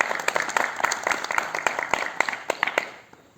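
Crowd applause at an MES Workers Union meeting in Shimla, dense rapid hand claps from many people that carry on steadily, then thin out and fade near the end.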